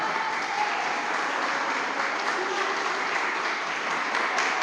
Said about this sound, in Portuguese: vamos aplaudir ao Senhor pela vida do Joel